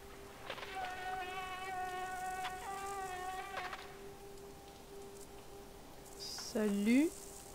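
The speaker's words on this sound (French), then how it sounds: "Salut, monsieur le gros moustique." A giant mosquito in the video game Limbo buzzes with a steady, droning whine over a hushed ambient background, swelling into a louder, closer sweep of buzzing near the end.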